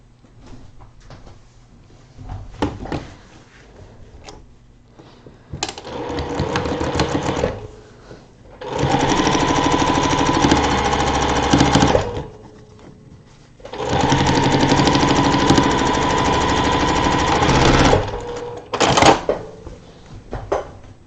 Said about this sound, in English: This piece is now going to now flip up and we're going to sew from the center out again.